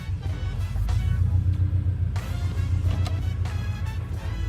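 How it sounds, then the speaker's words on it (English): A manual-transmission car engine rumbles low and steady, its pitch shifting slightly as the clutch is released and the car starts rolling forward from a standstill, close and continuous. "slowly pull your foot off the clutch, and you'll start to feel the car move"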